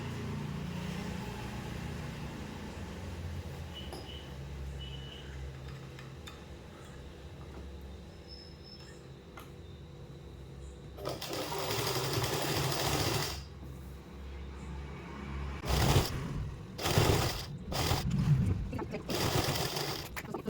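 A sewing machine stitches a kali palazzo seam, running in several loud bursts of varying length with short pauses between, over a low steady background hum.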